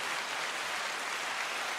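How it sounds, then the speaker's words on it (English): Steady applause from a crowd, dense and even throughout, heard from a moderate distance. "let's give him the round of applause as we usually do"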